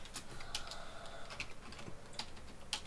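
Quick, light clicks of fingers typing on a computer keyboard while playing Space Quest III, a close, uneven patter of keystrokes with no voices.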